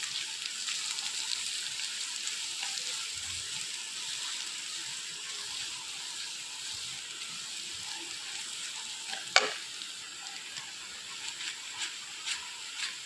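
Egg noodle masala stir-fries with spices and chicken masala in a pan, a steady hissing sizzle with faint scrapes and one sharp knock of a utensil.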